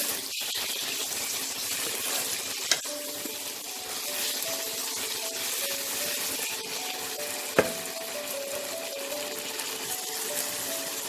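Green peas fry with spice masala in a kadai for a Bengali fish-head and cabbage dish, giving a steady close sizzle broken by two sharp utensil knocks.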